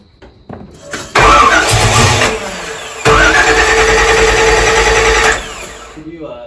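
A 1973 Camaro Z28 with a 383 stroker V8 cranks and fires loudly up close, catching in two roaring bursts with a short dip between, then cutting off, with voices around it.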